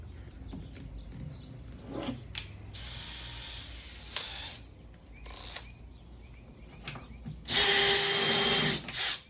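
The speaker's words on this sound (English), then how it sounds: "Let's change over to the drill bit and I'll show you how quick this goes." A power drill boring holes in a workbench top whirs in short bursts between clicks and handling noises, ending with a loud sustained high-speed run close by.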